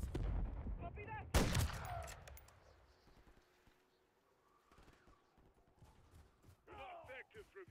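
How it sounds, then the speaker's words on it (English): Gunfire in a Call of Duty Modern Warfare III campaign battle at a snowy mill, a loud burst of shots near the start, then quieter scattered fire and battle noise under radio voices. "Taking enemy fire."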